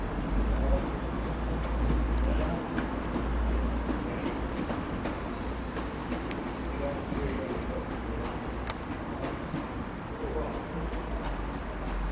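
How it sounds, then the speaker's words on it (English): A train to Bridlington pulls into a station with a steady low rumble and rolling wheel noise that holds throughout, moderately loud, with faint higher squeals. "Here's our train to Bridlington, the 1400 to Sheffield"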